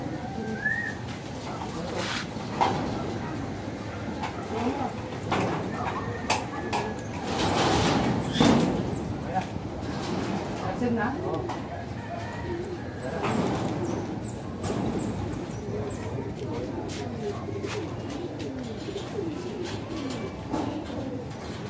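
Racing pigeons at a derby loft during the first lap of a race, with faint cooing and wing sounds under a steady outdoor background; people talk quietly nearby.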